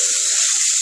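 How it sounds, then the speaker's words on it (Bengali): Onion and garlic paste hits hot oil with whole cumin seeds, giving a brief, loud, steady sizzling hiss up close. "এবার এর মধ্যে পেঁয়াজ রসুনের পেস্টটা দিয়ে দেবো।"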